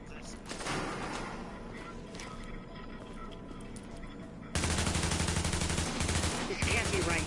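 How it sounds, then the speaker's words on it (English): Light machine gun fire in The Division, rapid sustained bursts of gunshots that grow sharply louder and denser halfway through, heard under a spoken voice in the first part. "Machine gun, he means a light machine gun."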